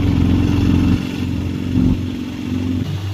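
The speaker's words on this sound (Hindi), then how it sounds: "कि बाइक चला रहे हैं।" A motorcycle ridden up a mountain road in the Himalayas, its engine a loud steady drone with shifts in pitch as the throttle changes, heard up close with no talking.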